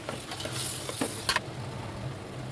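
Mutton head curry stirred in a pan after chili powder goes in, a faint sizzle under soft scraping, with a couple of quick clinks of a spoon against metal.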